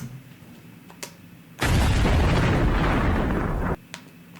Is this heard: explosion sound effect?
yes